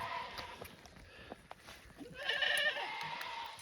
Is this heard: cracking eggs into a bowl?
no